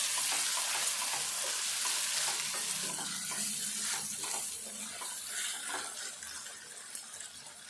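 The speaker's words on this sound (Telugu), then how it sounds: "టమాటో ఈ ఉల్లిపాయలు ఇట్లా మెత్తగా అయ్యేదాకా ఫ్రై చేసుకోవాలి." Tomato pieces and onions fry together in a pan for gongura chicken, a steady loud sizzle with occasional stirring scrapes, close up and without talk.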